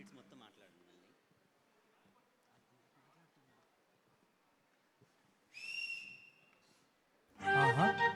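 Audience whistles at a Telugu awards-show singing segment: one bright sustained whistle midway, then a loud burst of whistling and crowd noise at the end, after a quiet stretch.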